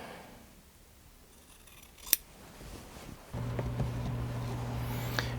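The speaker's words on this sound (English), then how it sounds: "I've got scissors here, so we'll trim it up" A single sharp snip of scissors, followed by a steady low hum and light handling noises.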